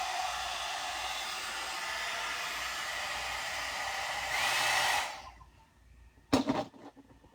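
A hot air brush blows a steady, loud rush of air while drying and straightening hair, swelling briefly before cutting off, followed by a few short clattering knocks.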